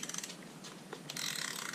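A ratchet clicks rapidly while a bolt is loosened on a dirt bike, a close, quiet train of metallic ticks that speeds into a denser burst near the end.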